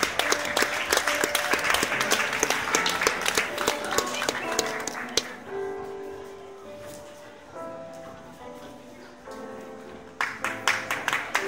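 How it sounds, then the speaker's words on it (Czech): An audience applauds at the winners' announcement of the Moravia Talent 2016 talent contest. Loud, dense clapping fills the first half, fades under a voice and tones, then returns briefly at the end. "Děkujeme za potlesk, zaslouží si to všichni."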